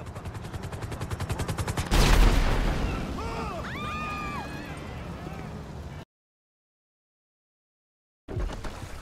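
Gunfire in the video game GTA 5: a rapid machine-gun-like burst of shots, then a loud boom, with game sounds and voices afterward before a sudden cut to silence and a brief return.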